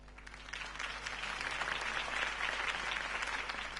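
Sustained crowd applause following a campaign speech by a city political candidate, a steady wash of many hands clapping at moderate volume throughout, with no voices standing out.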